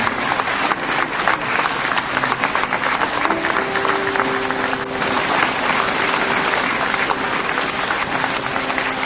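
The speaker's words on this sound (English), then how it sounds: "Please give a clap for our Chief Minister" A crowd at a church ceremony in Jowai applauds the Chief Minister with sustained, loud, dense clapping that holds steady throughout, with faint tones and murmurs beneath.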